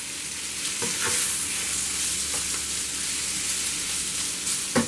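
Chicken pieces frying and browning in a pan for sweet and sour chicken, a steady close sizzle with occasional stirring clinks and scrapes.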